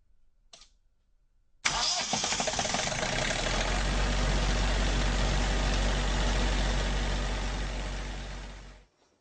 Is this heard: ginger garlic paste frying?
no